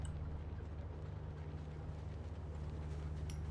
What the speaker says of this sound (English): Don't mind the little bit of a rattle and scraping sound coming from the engine.